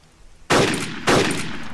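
Two sharp, loud bursts of automatic gunfire in a first-person shooter video game, each a sudden crack followed by a rapid rattling tail, the second starting about half a second after the first.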